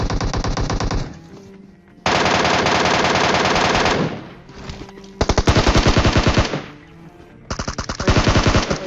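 Automatic MK gun fire in a video game: several loud, rapid bursts of rattling shots, separated by short pauses.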